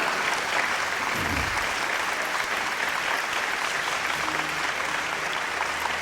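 An audience at an Urdu music evening applauds steadily to welcome a singer, a continuous clapping crowd that stays even throughout, with a brief low thump and faint hum underneath.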